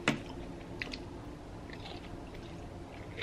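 Crunchy pickles with hot sauce chewed close to the mic in a quiet room, soft wet bites and crunches repeating at an irregular pace.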